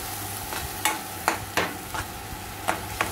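Mustard and poppy seed paste is sautéed with water in a pan, a soft continuous sizzle punctuated by about eight evenly spaced scraping stir strokes close by.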